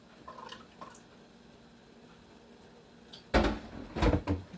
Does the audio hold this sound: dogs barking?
no